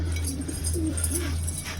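Lakka pigeons coo in a low, rolling murmur while fresh water is set down before them, a couple of soft warbling phrases over a steady low hum, fairly close.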